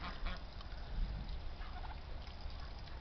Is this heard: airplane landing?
no